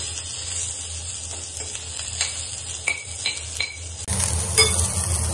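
Onion frying in a little oil in a pan for a village-style chicken rasaa, a steady close sizzle with light stirring scrapes, growing louder and brighter near the end.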